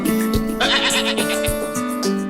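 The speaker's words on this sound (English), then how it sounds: "We chose a goat because we wanted our own milk supply." A goat bleats on a New Zealand farm with a loud, wavering, drawn-out cry that breaks into pulses, close by and over a steady background hum, with no talk.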